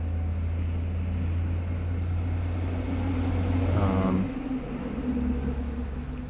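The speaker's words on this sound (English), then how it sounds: "don't mind the truck noises in the background." A heavy truck rumbles steadily in the background, a low continuous engine drone heard from a distance, with one brief louder swell as it passes.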